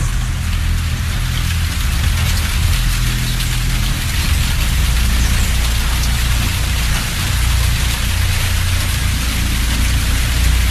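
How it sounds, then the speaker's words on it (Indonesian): Steady rain pours down at night outside a bedroom window, a dense, even hiss of drops on surfaces that continues without a break, loud and close, with no voices. "Hujan masih terdengar turun."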